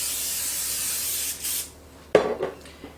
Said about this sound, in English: Now what I'm going to do is spray my countertop.